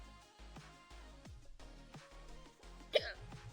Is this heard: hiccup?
yes